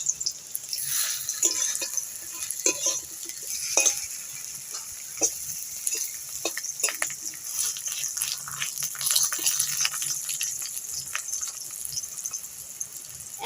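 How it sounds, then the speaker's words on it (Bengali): Wheat-flour flatbread frying in a little oil in a pan, a soft, crackling sizzle with frequent small pops and occasional scraping of a turner, heard up close with no talking. "সাইড ভেজে নিয়েছি আর এক সাইড ভালো করে ভেজে নেব"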